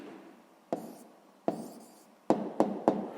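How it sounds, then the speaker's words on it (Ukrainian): A pen writes an answer by hand on paper during a sixth-grade maths lesson, making five sharp, close strokes and taps with quiet scratching between them, and no talking. "Записуємо відповідь. Пишемо відповідь."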